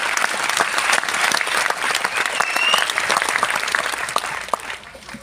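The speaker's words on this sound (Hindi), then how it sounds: "जब जब आपको बताया जाए कि ताली बजाओ, दिल से ताली बजाने का" Audience at a marketing training session breaks into sustained applause, a dense crackle of many clapping hands lasting several seconds before thinning out.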